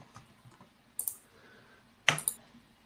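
Computer keyboard typing during an online coding workshop: a few quiet scattered keystrokes, then two short bursts of quick, close clicks over a faint background.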